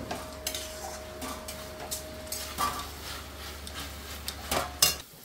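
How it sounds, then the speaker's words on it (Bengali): Sago is poured into a hot spiced pan for a vegetarian sago khichuri and stirred, a faint sizzle under soft spoon clinks and scrapes against the pan, a few sharper knocks near the end. "সাবুটাকে ঢেলে দিলাম"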